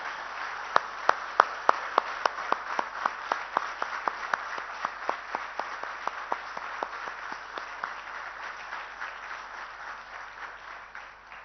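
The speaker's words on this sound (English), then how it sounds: "let's all stand up and give him a round of applause" Audience applause at a national summit following a political speech, dense clapping from a large crowd with a few sharp, prominent claps standing out, steady for the whole stretch and slowly fading toward the end.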